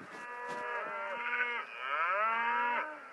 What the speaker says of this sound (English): It's just a bunch of cows